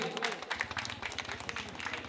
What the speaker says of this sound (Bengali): একটু জোরে হাততালি সবাই মিলে।